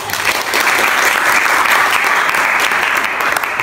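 Students in a classroom break into loud, continuous applause, a thick, even wash of many hands clapping nearby for the whole stretch.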